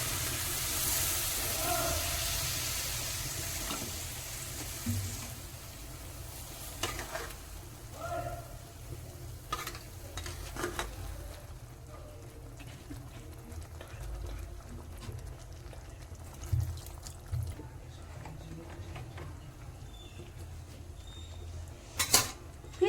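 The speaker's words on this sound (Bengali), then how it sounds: "এবার সেদ্ধ হওয়ার জন্য জল দিয়ে দেবো পরিমাণ মতো" Water poured into a hot pan of red lentils (masoor dal) for boiling gives a loud hissing sizzle at first, then settles into a quiet simmer with occasional clinks of utensils and a voice talking in the background.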